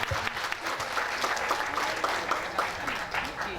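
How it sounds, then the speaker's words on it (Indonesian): Applause from an audience at a board installation ceremony and arts event in Bekasi, a dense steady patter of many hands clapping throughout, fairly loud and close, with faint voices mixed in. "Tepuk tangan dulu dong."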